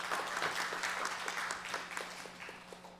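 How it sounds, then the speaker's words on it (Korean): Audience applause at a Korean policy seminar panel session, welcoming a discussant; steady mid-level clapping from a room of people, continuous for a few seconds with a faint steady hum beneath. "박수 부탁드리겠습니다."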